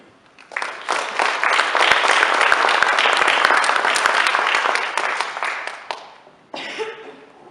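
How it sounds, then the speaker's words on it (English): A banquet crowd applauds parents and grandparents at an FFA chapter banquet in Arkansas City, loud sustained clapping for about five seconds, fading, then a shorter second burst of applause. "Please applaud these individuals for their time and effort."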